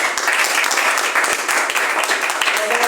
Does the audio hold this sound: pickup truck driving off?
no